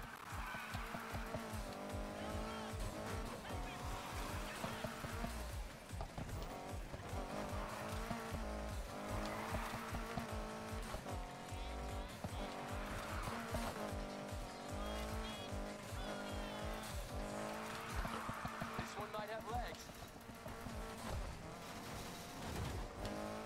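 A car drifts in the Need For Speed Heat racing game, its engine revving and wailing continuously while tires squeal in long repeated skids, loud and sustained with no talk over it.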